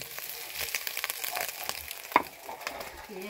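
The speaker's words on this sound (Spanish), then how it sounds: "Vamos a dar una movidita a la carnita para que se dore" Meat browning in a pan for salpicón, stirred with scraping clatter and crackling sizzle that swells and fades close by, with one sharp knock of a utensil against the pan partway through.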